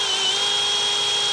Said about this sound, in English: And hold that drill. It'll jump out of your hand.